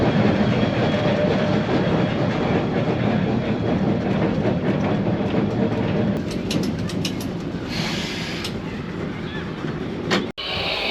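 A historic electric tram runs at the Ballarat tram museum, a steady rumbling and clattering ride with rail noise throughout and brief squeals near the end.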